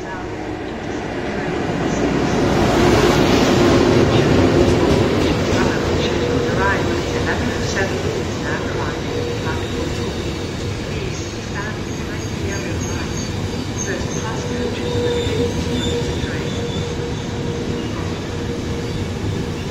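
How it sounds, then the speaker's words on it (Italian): An Intercity train from Roma Termini to Lecce rumbles steadily into Foggia station, platform 1, a broad low roar with metallic squeals and clanks, while an amplified Italian announcement voice echoes over the platform. "proveniente da Roma Termini e diretto a Lecce, è in arrivo al binario 1"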